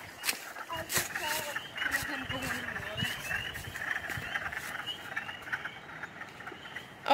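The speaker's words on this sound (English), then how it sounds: "you can hear the spring peepers" A chorus of spring peeper frogs calling continuously, high shrill peeps overlapping, with people talking over them and occasional bumps.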